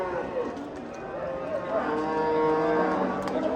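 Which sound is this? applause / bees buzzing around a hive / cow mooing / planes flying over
cow mooing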